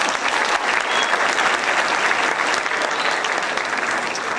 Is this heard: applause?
yes